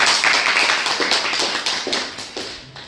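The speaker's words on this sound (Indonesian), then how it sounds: "Tepuk tangan dulu untuk keluar." Steady group applause, many hands clapping together in a dense, continuous patter for a few seconds.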